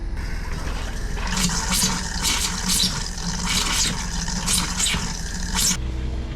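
Water runs steadily from a bathroom sink faucet in a Class A RV during winterizing, a continuous close rushing flow with brief spurting surges as the tank nears empty.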